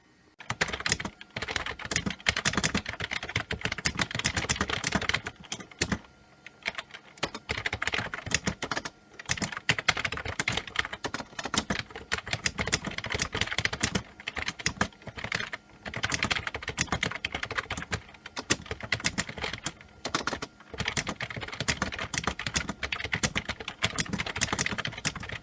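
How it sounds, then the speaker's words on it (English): Steady, rapid clacking of keys on the keyboard of an old launch-date Windows XP computer, continuous for the whole stretch with only brief pauses, close and fairly loud. "give you all a sound sample of the keyboard"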